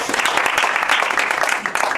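A crowd claps continuously at a UX design talk in Tokyo, a dense patter of many hands filling the room, steady and fairly loud for the whole stretch.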